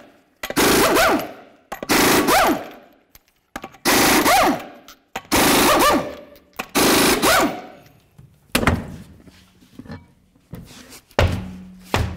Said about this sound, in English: now we're going to remove all 6 of our lug nuts and take the wheel off